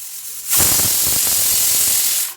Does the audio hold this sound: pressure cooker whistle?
yes